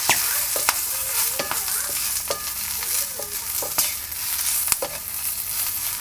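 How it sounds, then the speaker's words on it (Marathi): Cluster beans (gavar) stir-fried in a little oil give off a loud, steady sizzle, broken by repeated sharp clicks and scrapes of a spatula against the pan; no one speaks. "हे गवारी मऊ पण होईल आणि चांगलंसं परतला जाईल"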